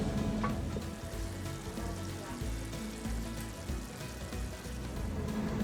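Ground meat and onions fry and sizzle steadily in a pot for chili, with occasional scrapes and stirring knocks, close and continuous with no voices.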